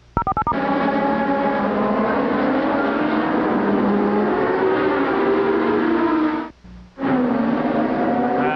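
1988 Formula One cars race at Hockenheim during the German Grand Prix, a loud, sustained high-pitched engine scream whose pitch climbs steadily, briefly cutting out and then resuming, after a short burst of electronic beeps at the start.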